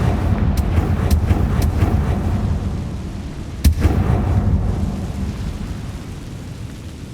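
A Confringo fire spell blast in Hogwarts Legacy bursts with a sharp, loud crack near the start of a rumbling, thunder-like roar, followed by a smaller crack midway as the booming tail slowly fades.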